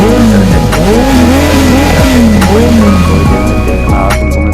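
A motorbike speeding down a highway while passing another vehicle, loud steady engine and wind roar with a rising and falling engine pitch, close up and continuous.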